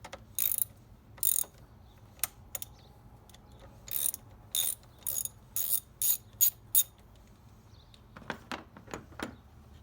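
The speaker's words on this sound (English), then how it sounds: "10mm socket and ratchet." A 10mm socket and ratchet working loose a battery terminal on a 2017 Ford F150 give bursts of close, sharp ratcheting clicks, some short and some longer, separated by quiet pauses.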